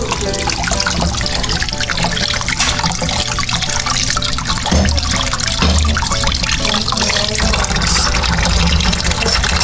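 Tap water runs loudly and steadily while freshly picked fruit is rinsed under it, with occasional thumps and splashes from handling.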